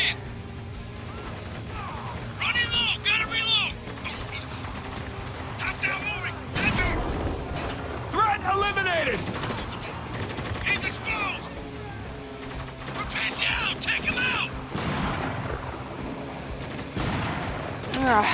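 Sniper and rifle fire from the video game Spec Ops: The Line, sharp repeated shots and crackling bursts mixed with game effects, with someone talking over much of it.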